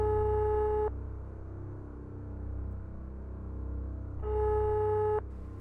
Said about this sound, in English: We tried calling back.